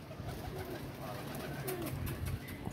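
Low, burbling coos from kept pigeons in a pigeon-flying yard repeat through the stretch over steady ambient noise, with faint human sounds in the background.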